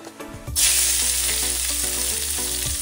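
Chopped onion hits a hot pan with a sudden loud burst of sizzling, then settles into a steady, close frying hiss with a little stirring and faint background tones, no talk.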